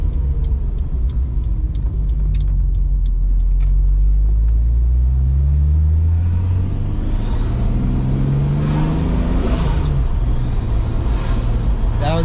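Turbocharged BMW 733i E23 accelerating from inside the cabin, a loud engine drone rising steadily in pitch with a thin turbo whistle climbing over it, then easing off.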